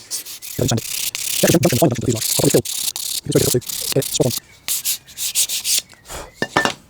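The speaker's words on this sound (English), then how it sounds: "sand that back down, because that's fitting at an angle to the fuselage" Sandpaper rubbing on a model aircraft part, a fuselage fairing for a Warbirds Replicas Hawker Tempest kit, in short rasping strokes of irregular length that come close and clear, with pauses between bursts.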